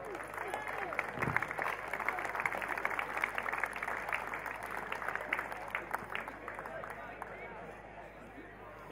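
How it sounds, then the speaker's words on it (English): A crowd at a football grand final applauds the referees, a steady spread of clapping with a few louder claps and general crowd murmur, sustained across the whole stretch at moderate distance. "just your final applause for the referees"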